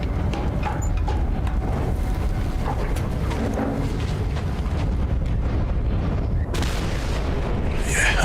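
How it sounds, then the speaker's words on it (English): Explosions in the video game Mad Max, a loud continuous rumbling roar of blasts and heavy booms with a sharper burst near the end, no clear speech over it. "Yeah, explosions."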